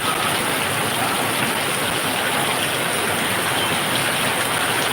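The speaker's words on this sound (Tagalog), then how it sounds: "Lakas ng ulan, grabe." Heavy rain pours steadily and loudly, a dense unbroken hiss with no pauses.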